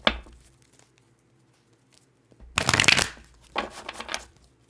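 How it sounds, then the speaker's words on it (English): Tarot cards shuffled in two quick riffling bursts, a loud crisp flutter near the middle followed by a softer, shorter run, with quiet pauses around them and no talking. "Let's do one more shuffle."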